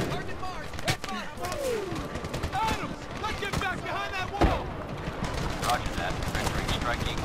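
Gunfire in Medal of Honor, with repeated sharp shots and bursts spread through a busy, loud battle mix, while a voice speaks over it.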